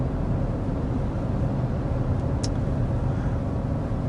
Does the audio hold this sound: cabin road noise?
yes